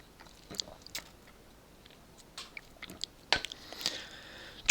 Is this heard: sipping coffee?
yes